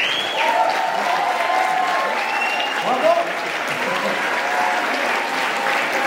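Audience applause at the close of a French-language motivational talk, a steady, dense wash of clapping that holds for the full six seconds with a brief swell near the middle.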